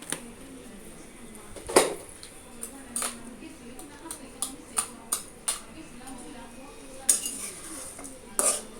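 Khichuri ingredients being stirred in a cooking pot, with a spoon scraping and knocking against the metal in irregular clinks, some sharper than others, over a quiet background.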